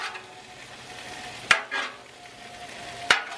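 Tortellini cooks on a Blackstone griddle with a soft steady sizzle, broken by two sharp metallic scrapes of a spatula about a second and a half apart.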